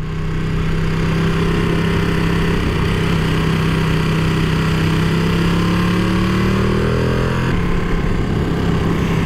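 A Ducati Panigale V2 engine drones loudly and continuously while riding, its pitch climbing gradually with revs before dropping off near the end, with wind rush throughout.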